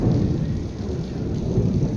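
Thunder rumbles low and continuous through steady rainfall outdoors, a loud, dense wash of sound with no voices.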